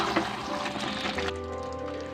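Water poured into a pan of country chicken curry made with sesame oil: a steady splashing fill and pour, louder at first and then settling into a softer trickle with a faint tonal hum, with no voices.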